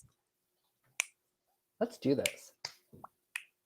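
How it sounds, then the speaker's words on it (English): A single sharp finger snap near the one-second mark, then a short phrase spoken by a voice and a few brief clicks and snaps. Close and crisp. "You forgot to snap your fingers when I said, let's do this."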